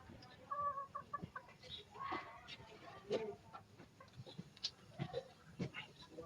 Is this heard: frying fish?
no